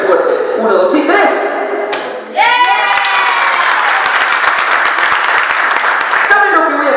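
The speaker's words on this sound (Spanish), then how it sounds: "Si lo agarrás, ellos te van a aplaudir muy fuerte" Party guests at a child's first birthday clap and cheer loudly after the child catches a tossed handkerchief, a bright burst of applause and excited children's voices rising suddenly midway, with an adult talking just before it.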